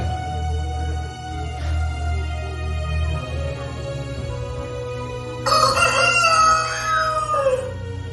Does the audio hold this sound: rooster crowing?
yes